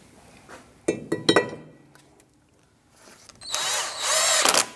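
A Torx T30 screw driven in to hold a 2009-2017 Audi Q5 front brake rotor in place, a few sharp metallic clicks and rattles, then a sustained close whir of the driver spinning.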